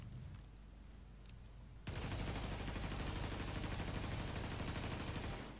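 G36 rifle fired in The Division video game, a sustained, fast automatic burst of loud, rapid shots lasting several seconds after a quieter stretch of faint rattling.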